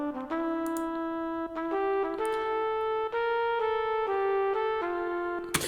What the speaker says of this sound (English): And the other bit I added was the horns